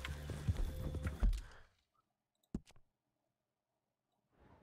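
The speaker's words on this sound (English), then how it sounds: "My horse!" Horse hooves clip-clop in Red Dead Redemption 2, a brief run of close hoofbeats under game music that cuts off, followed by a few isolated knocks and near silence.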